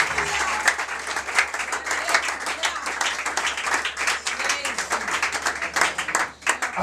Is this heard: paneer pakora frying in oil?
no